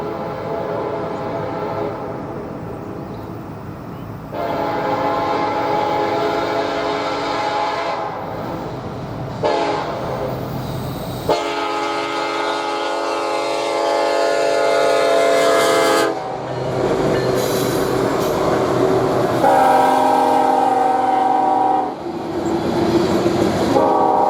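Long, loud blasts of a Norfolk Southern freight train's horn sound repeatedly as the heavy train, led by Montana Rail Link engines, rumbles past nearby in Tennessee, wheels rolling and clanking beneath the horn.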